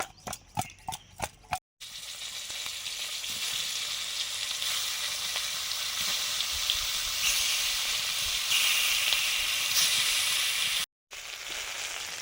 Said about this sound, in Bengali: এই মাছটা এখন ভাজবো।